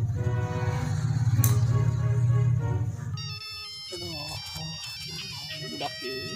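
A telephone ringtone plays loud and continuous under background music and talk in a Sundanese film scene, with a brief bright accent near the middle before the sound shifts to quieter mixed tones.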